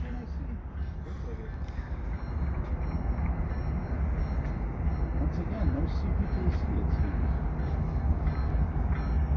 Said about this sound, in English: We got a slow moving CP train that's gonna pick up a dude.